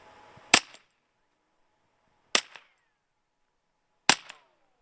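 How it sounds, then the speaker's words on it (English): A Colt .32 pistol fitted with a wet suppressor fires three sharp, clipped reports at evenly spaced intervals of roughly two seconds. Each shot stands alone against near silence. "This is the Colt 32 with a wet suppressor."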